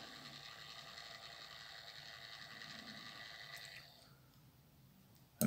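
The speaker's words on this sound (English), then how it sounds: "there'll be another motor operating the second gate" A small motor under the baseboard drives a model railway level crossing gate, giving a steady mechanical ratcheting whir that runs for about four seconds and then stops, followed by a faint click.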